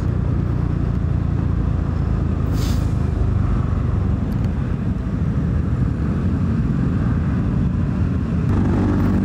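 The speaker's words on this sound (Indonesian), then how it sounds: "akhirnya motor gua itu hidup lagi" A Suzuki Address scooter engine, just brought to life with the kickstarter, runs steadily nearby with a loud, continuous, rough drone and no pauses.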